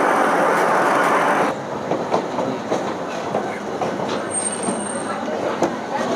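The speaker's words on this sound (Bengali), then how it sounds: "ছেড়ে দিল আমাদের ট্রেন ধুন এক্সপ্রেস 13009।" The Doon Express 13009 pulls out on its run from Kolkata toward Ayodhya, a loud steady rumble of rail cars with rhythmic clickety-clack from the wheels and a brief high squeal.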